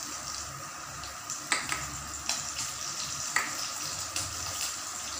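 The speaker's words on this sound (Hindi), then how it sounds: "हमारी हरी मिर्ची अच्छे से भुन चुकी है" Green chillies and curry leaves sizzle in hot oil for besan kadhi, a steady faint fry with a few soft clinks of a spoon stirring the pan, no voices.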